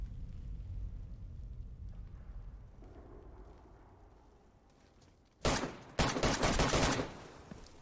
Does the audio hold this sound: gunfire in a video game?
yes